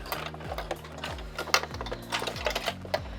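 A home sewing machine back-stitches fabric near a dress pocket seam, running in short bursts of rapid needle clatter with the motor whirring up and down close by.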